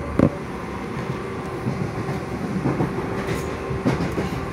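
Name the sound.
Southern Class 377 electric train running on rails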